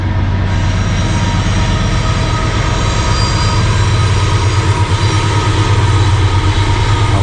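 A loaded coal train rolls past alongside a river, a loud, continuous low rumble of heavy cars with steady rail noise and a faint rhythmic pulse, close by and uninterrupted, with no voices.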